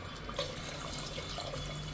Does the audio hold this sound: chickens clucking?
no